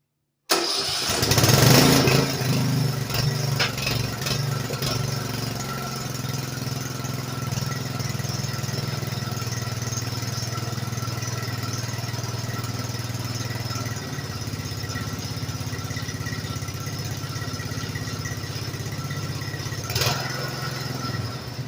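A Craftsman T100 lawn tractor engine cranks and catches with a brief rising burst, then settles into a steady, close, even idle drone that runs for the rest of the clip without talk.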